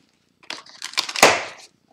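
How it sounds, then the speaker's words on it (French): Packing tape ripped off a parcel in one crackling pull lasting about a second, close up, with silence around it. "On enlève le scotch."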